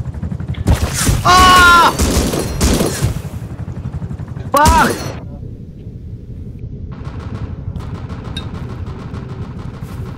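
Volley of gunfire in the survival game Rust, a burst of overlapping shots heard beneath loud shouting voices, with a second short crack a few seconds later and a softer rattling background afterward.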